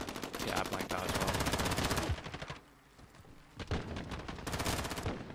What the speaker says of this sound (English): this is the kind of burst weapon we need. I'm hitting my shots, and I get my one bursts